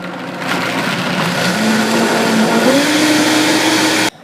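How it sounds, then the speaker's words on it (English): A kitchen blender whirs loudly and continuously as it blends soaked almonds with water into almond milk, its motor pitch climbing slightly midway before cutting off abruptly. "you can stop your blender"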